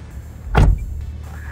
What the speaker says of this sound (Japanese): ドア閉めた音はこんな感じ。